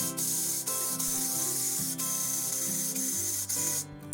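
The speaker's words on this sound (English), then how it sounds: "Just start the grinder like you are grinding the coffee beans or something else." A blade coffee and spice grinder runs continuously while grinding rice for cleaning, a loud steady whirring hum with slight fluctuations, cutting off at the end.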